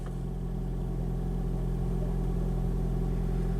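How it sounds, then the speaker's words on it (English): A car engine runs at a steady idle, a constant low rumble with no revving, moderately close and without voices. "The freaking car turned on."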